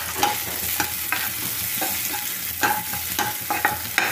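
Garlic and onions fry in a pan for a homemade pasta dish, with a constant sizzle close by and intermittent clinks and scrapes of a spoon stirring, and no one speaking.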